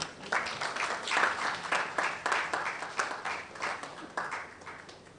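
A crowd applauds continuously at the launch of the National Science and Maths Quiz 2022, many hands clapping in dense bursts that swell and ease, with no talking.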